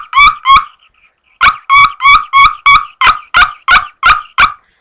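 A maple friction turkey call, worked with a stone held at a 90-degree angle, gives loud close high yelping kiki notes: two notes, a pause, then a rapid run of about nine more.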